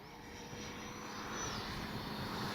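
A Freewing 90mm T-45 RC jet making landing passes, its electric ducted fan giving a steady whooshing whine that rises as it sweeps past, fairly loud and with no talk over it.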